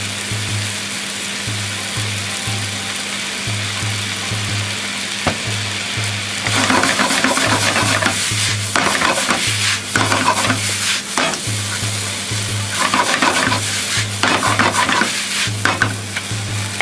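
A large batch of yakisoba fries on a hot griddle, sizzling continuously while spatulas scrape and toss the noodles in repeated clattering strokes over a steady low hum, close and loud, with no talk.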